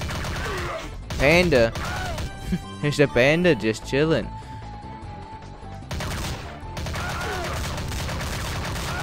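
Enemy gunfire in the Commando 2 video game comes in rapid bursts and volleys mixed with game music, while a person talks over it.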